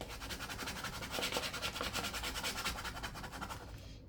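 A vinyl decal is scraped down onto a gift bag, giving a close, continuous rubbing and scratching sound with quick repeated strokes for about four seconds.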